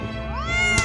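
A cat meows once, a clear rising and falling call standing alone against a low background hum.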